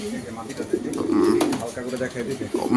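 A restless black racing homer pigeon stirs close by, giving soft coos and bird sounds while people talk over it throughout.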